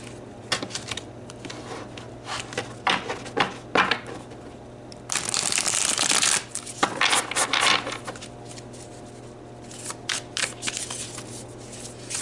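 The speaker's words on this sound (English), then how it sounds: "let's get the tarot nice and shuffled" Tarot cards shuffled close up in repeated crisp riffling and slapping bursts, with a longer dense rush around the middle, over a faint steady background hum and no talking.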